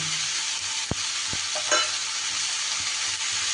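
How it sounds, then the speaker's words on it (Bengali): Cut Malabar spinach stems tossed into a hot pan, a constant loud sizzle with a couple of sharp knocks of a spatula against the pan and a brief scrape as they are stirred. "এইবার আমি কেটে ধুয়ে রাখা পুঁই মেচুরিগুলো দিয়ে দেব"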